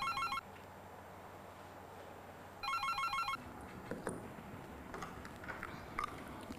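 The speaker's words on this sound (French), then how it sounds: "Ah, ce téléphone, il vous empêche de travailler." A telephone gives two short electronic rings, one at the very start and one a few seconds later, followed by quiet room sounds and faint rustling.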